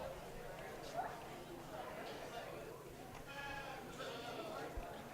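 Goats bleating during a county fair goat show in Las Animas County, with repeated calls over a busy, steady crowd murmur and an announcer talking.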